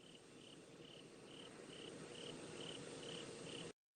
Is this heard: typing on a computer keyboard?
no